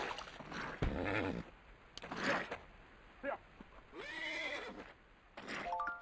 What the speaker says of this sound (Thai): เจอม้าแล้วทุกคน เอาม้าสองตัวนี้มันยังอยู่หรอวะ